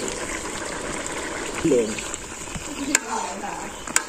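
Ginger, garam masala and cumin paste fry in a pan with a steady sizzle and occasional stirring clinks, and someone talks briefly over the cooking.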